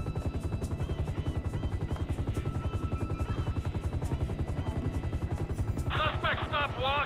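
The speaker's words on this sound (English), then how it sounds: "They're used to hearing and seeing helicopters" Police helicopter in Grand Theft Auto 5, a steady rapid rotor chop running throughout at close range, mixed with game effects and a brief burst of high chirping sounds near the end.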